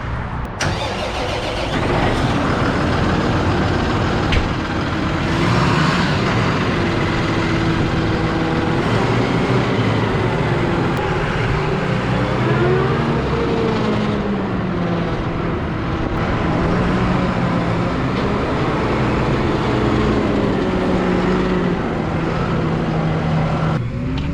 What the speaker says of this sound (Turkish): Şimdi biraz ee, T7'nin sesini dinleyelim arkadaşlar.